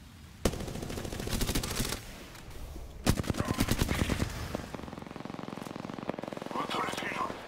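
Automatic weapon fire in the battle royale game Apex Legends, rapid bursts of shots recurring through the clip alongside other combat noise, loud and close.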